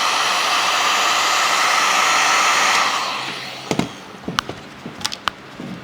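Heat gun blowing a steady loud roar while warming yellow vinyl wrap on a Mazda MX-5 ND's daytime running lights, then cutting off, followed by a few sharp handling taps and clicks.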